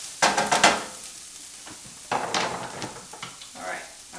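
Garlic going into a pan of frying onions for a kale greens dish, with bursts of sizzling and stirring clatter that flare up, fade, and return in short rounds close to the pan.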